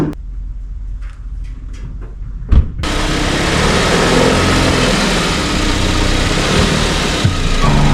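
A 2016-2020 Hyundai Tucson's engine runs in a garage as the car rolls onto ramps for an oil change, a steady broadband rumble that swells after a brief thump and holds loud and near.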